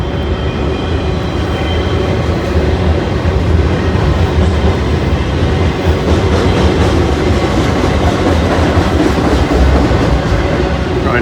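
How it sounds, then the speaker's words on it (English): A CSX freight train rolls past on the rails, its steady loud rumble and clickety-clack of wheels over track joints continuous throughout, with no talk. "There's CSX down there coming this way."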